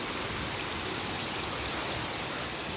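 Heavy rain driven by strong wind pours down in a dense, unbroken roar of steady hissing noise with no pauses or other sounds.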